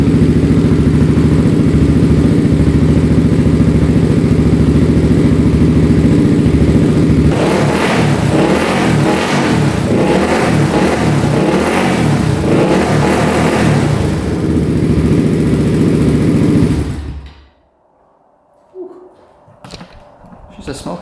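The engine of a quad ATV built from the cheapest parts possible, running with a smoky exhaust clogged with oil, idles loudly and then revs in a rapid series of bursts before cutting off into near silence.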